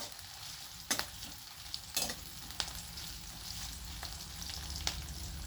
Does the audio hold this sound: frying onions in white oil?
yes